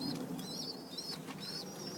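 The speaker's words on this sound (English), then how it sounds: "So there are a few pigeons here." Pigeons coo in a low, steady murmur, with a few brief high chirps and soft wing flutters close by.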